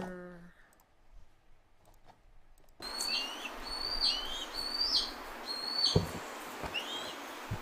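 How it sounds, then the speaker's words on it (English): A played recording of a Harris's hawk gives a series of repeated harsh, high calls over a hissy background, preceded by a few seconds of near silence and a short tonal blip, with some clicking noises near the end. "let's listen to that Harris's hawk"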